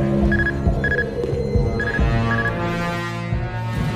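A telephone rings as a call connects, giving short paired electronic trills that repeat twice over a steady low hum, fairly loud and close.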